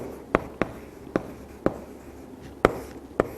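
Pen or chalk tapping and scratching on a writing board, sharp separate taps at an irregular rhythm, about seven strokes in a few seconds, close up and alone over a quiet room hum.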